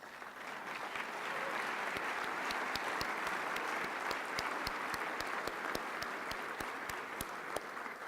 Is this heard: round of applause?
yes